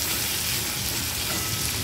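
Potatoes sautéed in a pan with ginger-garlic paste, a loud continuous close-up sizzle with a steady hiss and no breaks.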